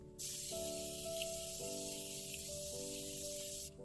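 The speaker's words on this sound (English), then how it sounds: "I'm going to take my setting spray, which is the Morphe Continuous Mist Setting Spray." A continuous hissing mist sprays from a Morphe Continuous Mist Setting Spray can for about three seconds, steady and close, over a faint background tone.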